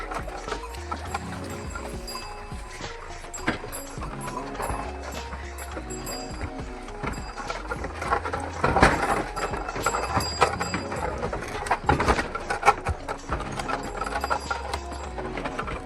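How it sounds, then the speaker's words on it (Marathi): A bullock cart rolls toward a farm plot, with a steady clip-clop of hooves and a rattling, creaking cart that grow louder midway. No one speaks. "आता बैलगाडी चालली वाडीत."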